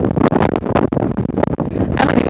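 Strong wind buffets a microphone outdoors at a scenic overlook, producing continuous loud rumbling gusts that roar and dip irregularly throughout, with no talking.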